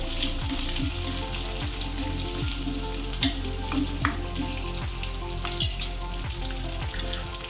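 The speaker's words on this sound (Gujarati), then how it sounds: "શિમલા મરચું મિક્સ કરી લઈએ આપણે સારી રીતે." Capsicum and chopped onion stir-fry in a hot pan for paneer chilli dry, a constant loud sizzle broken by regular clinks and scrapes of a spoon stirring, close up with no voices.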